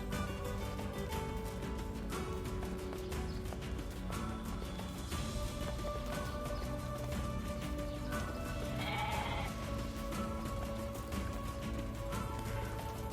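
Goats bleat repeatedly in the video game Nier Replicant, several calls rising over a continuous backdrop of game music and ambience, with no talk.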